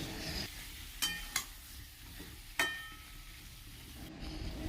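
Thin-cut potato strips and ridge gourd are stirred into frying spices in a wok, with several sharp clanks of a spatula over a soft background sizzle.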